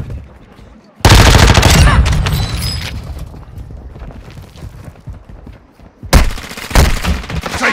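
Loud bursts of automatic gunfire in the video game Warzone 2, a dense rattling volley that fades into distant shooting, followed by another close burst near the end.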